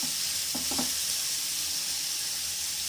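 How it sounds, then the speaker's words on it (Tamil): Chopped onions, small shallots, sautéing in a pan for a meal maker soya chunk gravy: a steady close hiss of frying with a couple of brief scrapes early on, no voices. "வெங்காயம் இந்த அளவுக்கு நல்லா வதங்கியிருக்கு"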